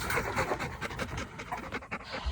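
A doodle dog panting rapidly and steadily, close by, with rhythmic breathy huffs continuing throughout and no voices.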